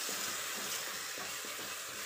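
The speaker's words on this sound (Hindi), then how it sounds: "अब साथ ही इसे हम टमाटरों के साथ ही चलाते रहेंगे" Masala spices fry with tomatoes in a hot pan for a Jammu-style rajma, a dense steady sizzle and hiss with soft scraping stir strokes underneath, close up and without voices.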